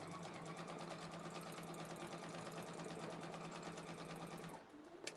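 A sewing machine stitches steadily as fabric and a quilting template are guided along together across a whole row of a quilt, its fast even motor hum running close and continuous before stopping abruptly near the end.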